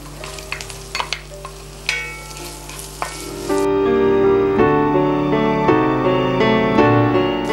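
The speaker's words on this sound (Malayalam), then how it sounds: "ഈ പച്ചമുളകും ഇഞ്ചിയും ഒന്ന് ചെറുതായി വാടി തുടങ്ങുമ്പോൾ നമ്മൾ സവാളയും കൂടി ചേർക്കും." Green chilli and ginger sizzle in hot oil, with sporadic pops and crackles, until finely chopped large onion hits the pan and the frying swells into a loud, steady sizzle with stirring scrapes.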